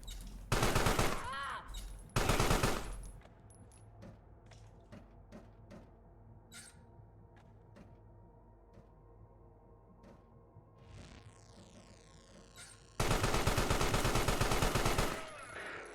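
Video game gunfire: long, loud bursts of rapid automatic fire open and close the stretch, with a short burst near the start and scattered single shots and clicks in between.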